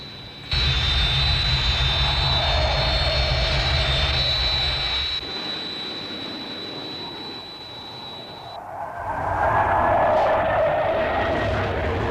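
Fighter aircraft engine roaring steadily during an attack run in the Thunderbirds puppet series, a loud sustained jet whine with a high tone that cuts out, then the roar swells again.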